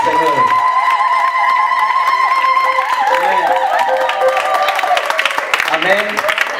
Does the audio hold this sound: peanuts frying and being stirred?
no